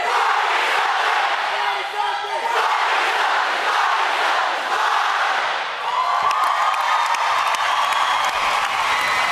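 McNary's graduating class of 2017 roars through a class cheer at their graduation, a loud massed shouting crowd that surges in waves, dips briefly, then swells again with scattered whoops and some clapping.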